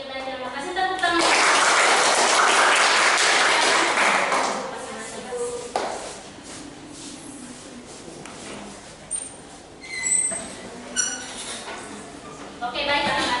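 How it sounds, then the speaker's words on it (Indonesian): A burst of clapping from a group, a classroom of children, fills the first few seconds, then fades into quieter room noise with scattered taps and faint voices. "Tepuk tangan."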